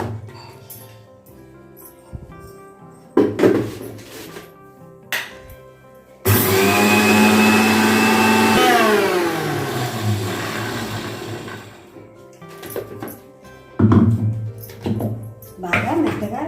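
An electric mixer grinder whirs loudly at close range for a few seconds as it grinds roasted sesame seeds for laddu, its pitch sliding down as it spins to a stop, with clinks of utensils and someone talking before and after.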